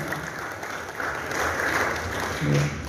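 An audience applauds a guest from RRI at an Indonesian community aspiration meeting, a steady wash of clapping that swells slightly midway while a voice talks over it.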